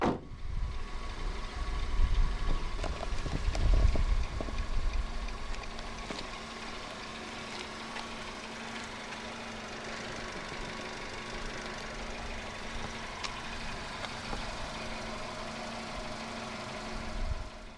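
A 2016 Nissan Almera with a 1.5-litre engine idles steadily with a low, even hum. A few louder thumps near the start die away into a quiet, constant idle drone with no talking.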